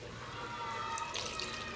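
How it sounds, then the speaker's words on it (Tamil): Water trickles and drips into rajma gravy in a pan during home cooking, a soft, quiet, brief pour heard close without any talk. "தண்ணியை சேர்த்துக்கிட்டேன்."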